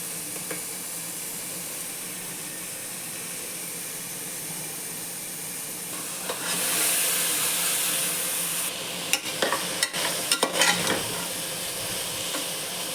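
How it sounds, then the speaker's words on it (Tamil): Vegetables sauté with onions in a pan for sambar rice, giving a steady sizzle and hiss that swells louder midway, with a few sharp stirring clicks near the end. "காயை ஒரு வதக்கு வதக்கி மூடி வச்சுடுங்க"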